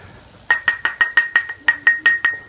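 A glass is tapped and handled, giving about a dozen bright, ringing clinks in an even, quick rhythm, close and loud with nothing else around.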